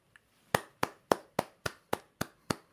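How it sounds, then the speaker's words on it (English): Eight sharp, evenly spaced hand claps ring out alone, close and clear, after one faint tap at the start. "I like how there's clapping."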